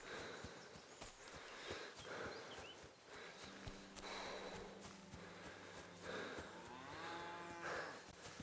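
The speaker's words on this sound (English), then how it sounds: "Moo." In Kingdom Come: Deliverance II, a cow moos several times, low and drawn out, with hoof clops and snorts from nearby farm animals.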